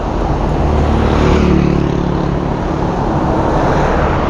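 Dense road traffic rumbles past in Santa Ignacia, Tarlac, a loud continuous roar of engines and tires, close and steady with no talk.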